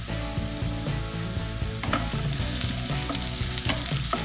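Sweet potato pieces fry in about four tablespoons of vegetable oil, a loud, constant sizzle with rapid crackling pops and occasional clinks of a utensil against the pan.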